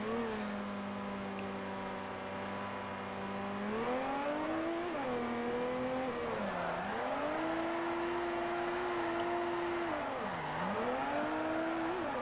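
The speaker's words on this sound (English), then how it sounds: "Looks like Xerox is just doing a bit of warming up of his tyres." A race car in Forza Motorsport 4 weaves to warm its tyres, its engine holding a steady drone that dips and rises as the revs change, heard alone without talk.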